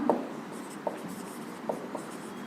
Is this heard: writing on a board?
yes